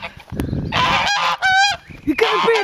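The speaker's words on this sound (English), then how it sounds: "Goose." An angry goose honks loudly and repeatedly at close range in harsh, raspy bursts, with short gaps between calls.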